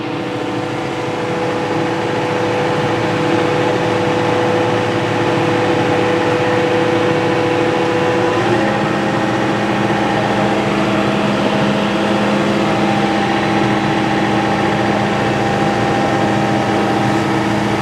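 A tractor in 4-wheel drive loads onto an Iron Bull Norstar dump trailer, its engine a loud, steady, close drone with a slight shift in pitch partway through.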